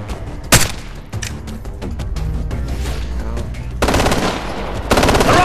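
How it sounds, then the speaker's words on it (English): Light machine gun fire in the shooter game Ghost Recon Future Soldier crackles in loud, rapid bursts, with a sharp crack early on and denser volleys toward the end, mixed with other battlefield gunfire. "Light machine gun!"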